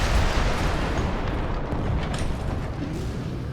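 Weapon fire and explosions in Armored Core VI form a continuous heavy roar of blasts and rumbling booms, loud and dense, with no clear gaps.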